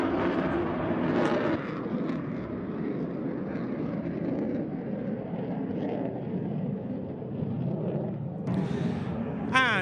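Saab JAS-39E Gripen fighter jet rolls on the runway at the NATO Days 2022 air show, a distant broad engine roar with a rumbling swell and a crowd murmur underneath.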